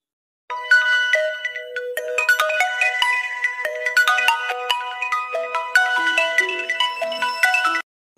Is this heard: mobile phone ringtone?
yes